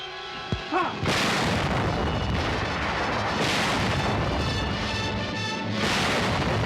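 Heavy WWII artillery fire in the battle for the fortified Sicilian town of Troina, with a sharp boom followed by continuous rumbling barrage and repeated loud blasts.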